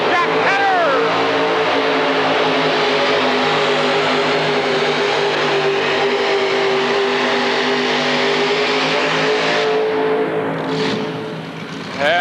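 A modified tractor roars through a 1986 indoor tractor pull run in the 7200 class, a sustained, loud, steady engine howl lasting the whole stretch and easing off only near the end, with an announcer talking over it.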